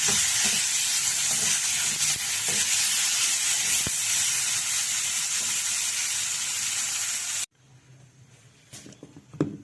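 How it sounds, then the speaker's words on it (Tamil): A mixer grinder grinds spicy kara chutney in a steady, loud, continuous whirring roar that runs for most of the clip and then cuts off abruptly, leaving faint clicks and room noise. "அதுக்கப்புறம் நல்லா நைட்டாக கொஞ்சம் மிக்சியில் அரைச்சிடுவோம்"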